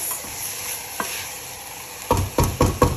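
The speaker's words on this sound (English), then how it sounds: "And now add my rice. Give a good mix." Rice stirred into a pot with a little water for sweet rice, a light background sizzle, then four quick scraping spoon strokes in a row, close and clear.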